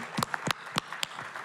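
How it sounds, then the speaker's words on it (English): A few scattered handclaps from a panel audience at VersoFest'25, sharp separate claps rather than a full ovation, fairly close and moderately loud. "How about a round of applause for a guy that really did it?"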